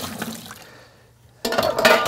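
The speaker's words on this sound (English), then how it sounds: "We'll get a little more water out of the boiler and the brew group." Water from the boiler and brew group of an ECM Synchronika or Profitec Pro 700 espresso machine drains into a container, a faint trickle at first that swells into a loud, steady splashing gush near the end.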